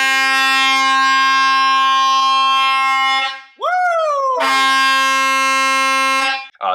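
Air-compressor-powered train horns mounted on a shuttle van converted into a tiny home blast loudly in a long sustained chord, break off briefly with a sliding pitch drop, then sound again and stop abruptly.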